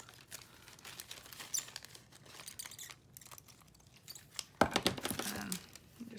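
Scissors cut through a plastic bag being shaped into a scrapbook pocket, giving soft crinkling and snipping that swells into a louder crunch near the end, close and alone.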